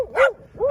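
A dog outdoors on a windy day gives two short, sharp barks in quick succession, close and fairly loud with a brief gap between them.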